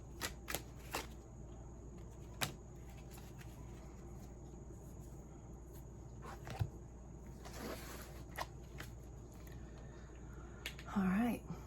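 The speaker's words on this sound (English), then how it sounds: "I want to draw one more card." Tarot and oracle cards are shuffled and drawn, giving quiet, close riffles and crisp single snaps spread over a soft, hushed background. A brief fuller shuffle comes near the end.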